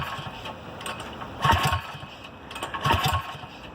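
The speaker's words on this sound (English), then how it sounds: "when you snatch that rope, it's you can hear the displacement in this engine" Rope pull-start of a modified kart engine, two rough bursts of cranking turnover about a second apart over a low steady rumble, fairly close and moderately loud with no voices.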